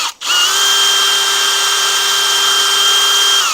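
An electric drill spins an engine valve from a Kohler Courage 20HP engine, starting after a soft click and running at a steady, loud high-pitched whine for a few seconds, easing off slightly at the end.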